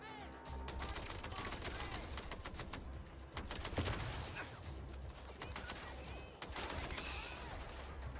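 Dense gunfire from the video game MindsEye, with rapid shots and bursts running almost continuously over a loud, busy game soundscape.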